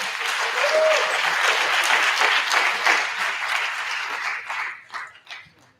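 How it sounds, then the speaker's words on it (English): Audience applause at a Kwanzaa celebration in Buffalo greets a woman called to the stage, a dense sustained burst of many hands that thins and fades toward the end. "Let's give her a round of applause"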